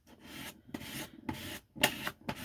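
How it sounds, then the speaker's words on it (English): Old gift card burnishing paper craft pieces with flowers, giving a series of short dry rasping rubs in several close bursts with brief pauses between strokes. "I'm just going to burnish that really well."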